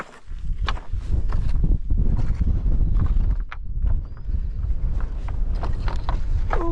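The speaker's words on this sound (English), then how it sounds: "Oh, yeah, it's a bit blowy here." Wind gusting across an exposed summer solstice wildcamp site: a loud, continuous low rumble buffeting close by, with scattered rustles and knocks on top.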